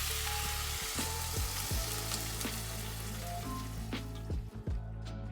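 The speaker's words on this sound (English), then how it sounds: "Turn the heat to high and bring it to a full boil." Water heats toward a boil in a pot for Japanese home-style curry, a steady hissing bubbling wash with faint clinks, close and continuous without speech.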